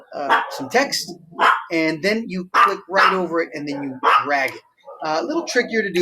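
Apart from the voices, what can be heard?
dog barking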